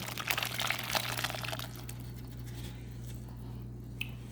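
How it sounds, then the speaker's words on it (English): Peach juice pours and splashes briefly into a pan, then stops, leaving a low steady hum in a quiet room. "I'm going to take the juice and everything, and I'm just going to pour it right in this pan"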